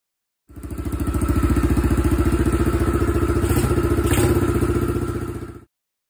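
A Chinese dirt bike engine with a new carburetor, slight tuning and premium fuel runs steadily and loud up close, a throbbing, even idle-like chug with some mechanical clatter, holding for about five seconds before cutting off.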